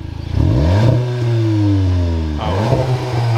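A 2020 Volkswagen Golf 7 GTI Performance engine revs hard, climbing sharply, then holds a steady high drone before dipping and surging again. Loud and close, with no talking.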